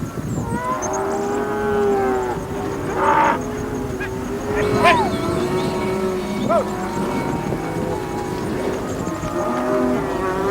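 Cattle low repeatedly during a muster in the rugged Kimberley of Western Australia, several drawn-out moos at mid distance over a steady rumbling outdoor background, with a few sharper calls mixed in.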